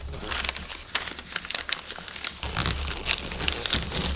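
Wrapping paper being folded and tucked around a long gift box in a Japanese tape-free wrap, with soft, close crinkling and crisp rustling in short bursts.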